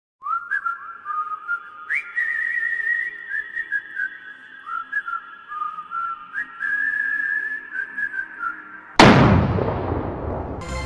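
Diwali firecrackers: a long rising whistle wavers for about nine seconds, then cuts off in a sudden loud explosive burst with crackling noise.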